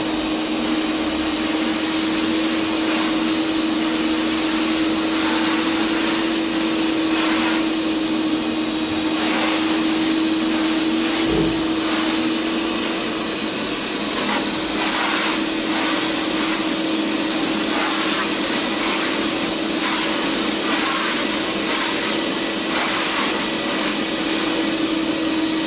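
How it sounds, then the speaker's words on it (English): A hot water extraction machine cleans Flotex carpet, spraying atomized water and sucking it back up with a steady, loud vacuum-like whine and hiss that runs unbroken, with bursts of spray texture. "a hot water extraction machine"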